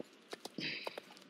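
Hooves of a Friesian horse clip-clop in a horse-riding video game, a few sharp separate steps with a brief whinny-like tone in between, heard close and alone.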